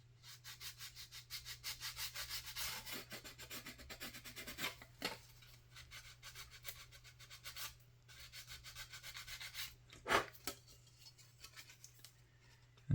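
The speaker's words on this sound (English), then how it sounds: "get all those burrs sanded down initially" Quiet, close sanding strokes scrub burrs off a plastic 1/535 scale USS Iowa model ship hull, a quick rhythmic rub repeating in bursts over a faint steady hum, with a few sharper clicks.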